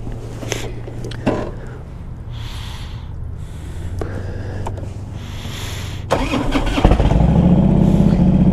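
A 2005 Harley-Davidson Road King Classic with fuel injection and aftermarket pipes cranks and fires up, breaking into a loud, close, rumbling idle after a few seconds of clatter and handling noise.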